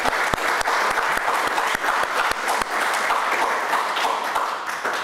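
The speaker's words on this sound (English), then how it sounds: "And the people online can clap too if you want." A room audience at the close of a panel session breaks into steady, dense clapping, loud and continuous throughout with many individual claps blending together.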